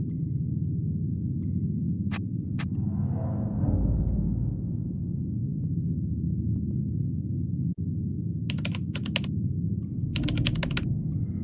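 Quick bursts of key clicks on a damaged console keyboard in the video game Still Life 2, short clusters of taps over a steady low machine hum.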